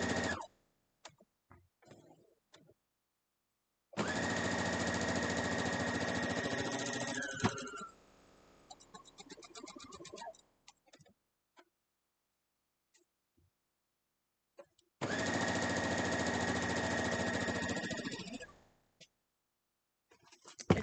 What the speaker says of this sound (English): we're going to go back over to the sewing machine